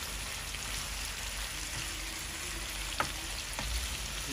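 Eggs hiss and sizzle as they hit spices frying for an egg bhuna, a steady broad crackle with a couple of sharper pops and clinks from a pan partway through.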